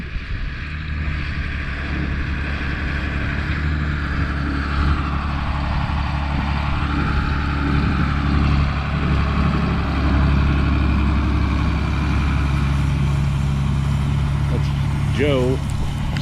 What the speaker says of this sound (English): pulling the spreader with a 8770 Ford New Holland tractor